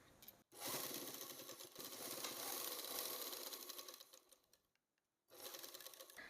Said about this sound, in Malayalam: അപ്പോൾ ഇതുപോലെ വെച്ചിട്ട് സ്റ്റിച്ച് ചെയ്യാം